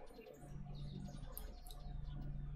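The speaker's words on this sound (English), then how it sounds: "Birds cheeping." Small birds cheep softly in a quiet town scene from a One Piece anime episode, a few high chirps scattered over a steady low background hum, with no talking.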